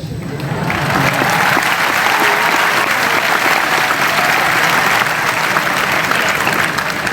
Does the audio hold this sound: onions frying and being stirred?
no